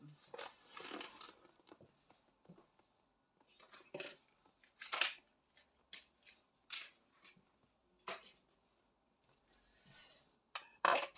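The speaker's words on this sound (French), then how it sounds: "Il faut que je prenne mon ciseau" Small scissors for sewing up an amigurumi unicorn are picked up and handled, producing a scattered series of short metallic clicks and snips close by, with pauses between them and no talk.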